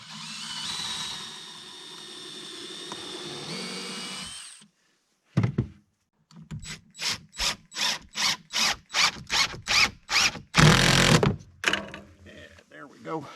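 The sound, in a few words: drilling a pilot hole in plywood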